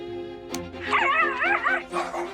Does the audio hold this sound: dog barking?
yes